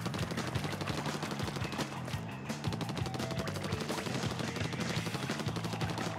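Ink shooting in the video game Splatoon, a rapid stream of repeated splatty bursts firing in a fast steady rhythm over game music, loud and continuous for several seconds.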